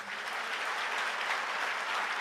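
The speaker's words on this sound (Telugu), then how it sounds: "అందుకు కొట్టండి చప్పట్లు." An audience claps steadily at moderate distance, a dense even wash of applause that holds without swelling or fading for a couple of seconds.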